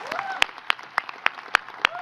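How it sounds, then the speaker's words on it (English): An audience at a community event applauds, with sparse, evenly spaced claps ringing out at a steady rhythm, fairly close, while voices murmur underneath. "can we please applaud Bob and Christina and all of the folks on the stage?"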